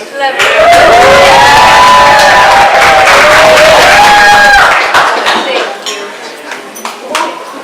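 Wedding guests cheer, whoop and clap loudly for the best man after his speech, a dense crowd roar with voices calling out over it, then tapering down toward the end.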